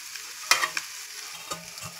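Fish frying in a pan, a soft continuous sizzle with a few sharp knocks and scrapes from stirring.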